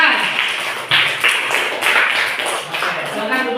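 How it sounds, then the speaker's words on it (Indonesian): Students in an Indonesian classroom clap for a classmate who has just presented an answer, a brief burst of close, uneven applause with talk over it. "tepuk tangan buat temannya yang sudah mempresentasikan jawabannya"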